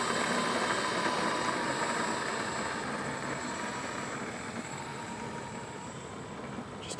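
A GWS C-130 Hercules model plane flies overhead with a steady, broad engine drone that stays even and continuous throughout, with no talk.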